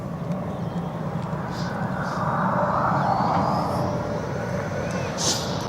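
Vueling Airbus A320 airliner departing Barcelona airport, a broad steady jet roar that swells and then eases slightly, heard from a distance, with faint talk over it.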